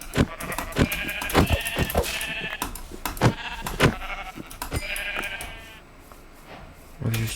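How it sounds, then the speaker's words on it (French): Sheep in the Minecraft video game bleat repeatedly in short, sharp, closely spaced calls, loud and near, with a brief quieter stretch before a final burst. "On va juste tuer le mouton."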